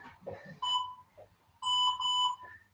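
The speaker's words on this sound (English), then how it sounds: "We'll start the timer." A Tabata workout interval timer sounds two long, loud electronic beeps, each lasting about a second with a pause between, while a voice talks faintly at the start.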